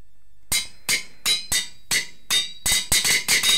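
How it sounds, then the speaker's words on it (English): A hammer strikes repeatedly in the Minecraft GregTech 6 mod, about ten sharp metallic hits in a steady rhythm that quickens toward the end, loud and close with nothing else heard. "There goes the hammer again."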